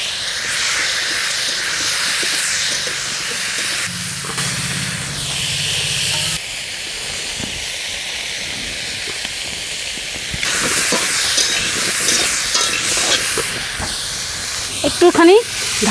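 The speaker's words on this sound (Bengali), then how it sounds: "তেলে দিয়ে ভেজে নিচ্ছি।" Cauliflower fries in mustard oil in a wok, giving a loud, continuous hiss and sizzle that shifts in intensity partway through, with a few clanks toward the end.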